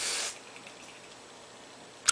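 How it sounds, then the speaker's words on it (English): A short burst of hairspray hisses from a can onto hair being styled into a pompadour or faux hawk, close and fairly faint, followed by quiet and a brief click. "that's when the hairspray comes in"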